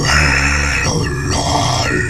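A screamo vocal scream demonstration, one sustained, loud gritty growl-like scream held for about two seconds with rough, distorted texture and no clear words.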